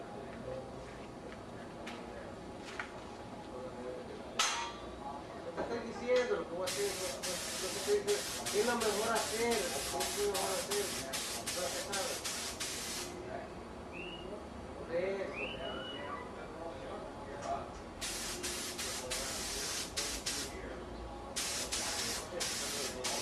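Spray paint hissing onto a rusted Chevy car part during a second coat, in long bursts at about 7–13 s and again from 18 s, alone with quiet background in between.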